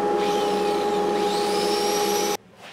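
A steady electric motor whine with a constant hum, like a power sander running on a wooden maple bowl, cutting off abruptly near the end.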